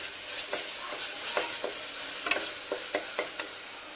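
Kidney beans sizzling in a pan with masala as they are fried and stirred, a steady hiss broken by scraping strokes of a spoon at irregular intervals, close and moderately quiet.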